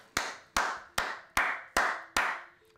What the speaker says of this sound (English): God, those are some fucking loud claps